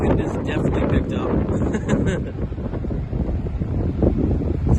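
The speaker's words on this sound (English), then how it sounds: "The wind is definitely picked up." Strong gale-force wind in the coastal town of St. Helier, Jersey, buffets the microphone with a loud, continuous low roar that persists throughout, heard close up and alone with no talk.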